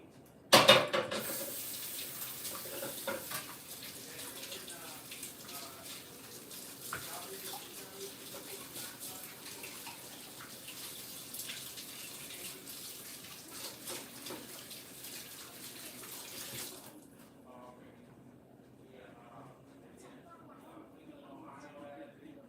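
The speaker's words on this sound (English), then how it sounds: "Let me wash my hand because I just touched shrimps." Tap water runs steadily into a sink as hands are washed in a kitchen after handling raw shrimp, a continuous hiss that stops abruptly near the end, leaving quiet room noise.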